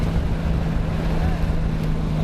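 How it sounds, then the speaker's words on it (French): Heavy construction machinery rumbles steadily at a deep-water port building site on the Atlantic coast at Banana, its continuous low drone and hum mixing with ocean waves and wind buffeting the microphone. "ce sont les bruits des engins qui rivalisent désormais avec le son des vagues de l'océan Atlantique"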